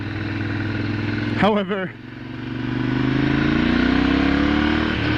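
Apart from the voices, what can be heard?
motorcycle engine running and revving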